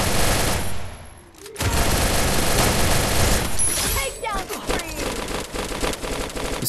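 Bursts of automatic gunfire fill a Garena Free Fire battle royale match with MP40 and M82B weapons, loud, near and dense. The firing stops briefly, then comes back in heavy rapid volleys mixed with shot echoes and sharp impacts.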